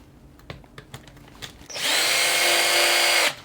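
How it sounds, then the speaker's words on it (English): A power drill spins up to work a solder-filled screw loose in an Adcom GFS-6 speaker selector, a loud steady whine holding for about a second and a half after some light clicks and handling. "See if my drill can beat the solder."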